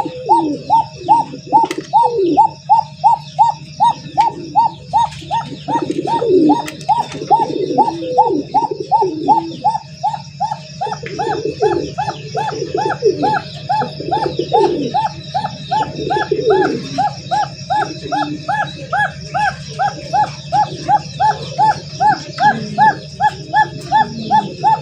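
A male pigeon on a large pigeon farm cooing loudly and close, a long run of rapid rhythmic coos repeating steadily throughout, with other birds chirping faintly behind.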